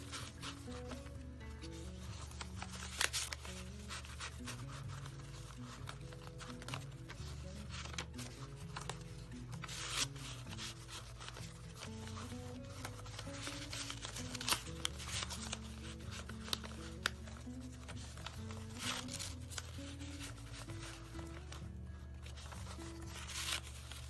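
Old book pages are rolled and folded by hand to shape a vase, making quiet, steady rustling, crinkling and flicking paper sounds that repeat over a long stretch, close up, with no talking.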